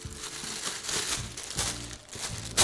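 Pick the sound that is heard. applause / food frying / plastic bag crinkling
plastic bag crinkling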